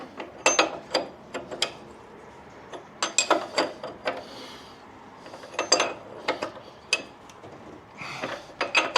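A ratchet tightens a belt adjuster on a 2014 motorcycle, bursts of quick clicking strokes close by, separated by short pauses, with no talking.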